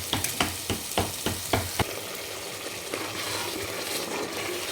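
Spice paste frying in oil for a village-style Marathi fish curry. It opens with a quick run of sharp, rhythmic spoon knocks against the pan, then settles into a steady, close sizzle.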